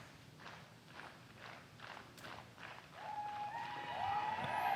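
Spectators clap at a hole during the 2021 MVP Open disc golf tournament at Maple Hill, a faint, distant scatter of claps that swells slightly toward the end amid quiet outdoor ambience.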